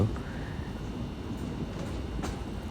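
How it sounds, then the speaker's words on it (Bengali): A passenger train running slowly between Kaliganj and Kotchandpur in Bangladesh makes a steady low rumble, heard from close by with faint clatter and no clear talking. "এবং ট্রেনটি ধীরগতিতে চলছে আবার ছুটে চলেছে"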